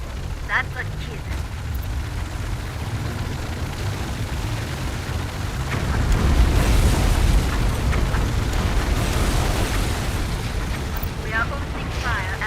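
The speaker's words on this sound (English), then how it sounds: "Massive detonation at the cargo ship. We've blown it up." A cargo ship explodes in Tom Clancy's EndWar with a deep, rumbling boom that swells midway and rolls on amid battle noise, with radio voices speaking over it.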